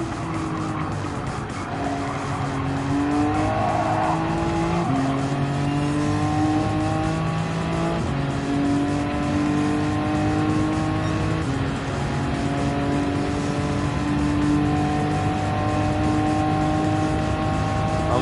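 A race car in Gran Turismo 7 accelerates hard, its engine note climbing and shifting through gears in a loud, continuous drone with tire squeal mixed in.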